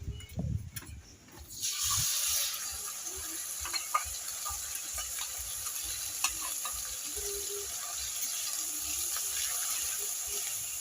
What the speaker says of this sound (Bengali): এবার সব মশলা মাখানো চিংড়ি মাছগুলো কড়ার মধ্যে দিয়ে দেবো।